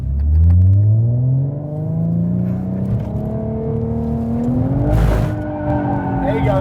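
A Ford Mustang drifting under someone's coaching, its engine revving up in rising sweeps while tires squeal, loud and close, with a sharp burst of tire noise midway and voices talking inside the car.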